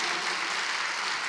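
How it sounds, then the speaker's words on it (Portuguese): Dense, steady clapping from a crowd at the opening of a dance festival, even and sustained across the short stretch. "Queria uma salva de palmas para André Batista, Parnamirim, Rio Grande do Norte."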